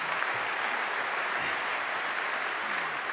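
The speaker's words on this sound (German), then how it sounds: "einen Applaus bitte für mich" An audience claps steadily at an awards ceremony closing, a dense, even wash of applause at moderate distance lasting a few seconds.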